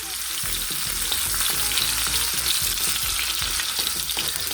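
Onions sautéing in a pan for Korean-style noodles, a dense continuous sizzle with busy crackling and frequent stirring clatter, close and loud throughout.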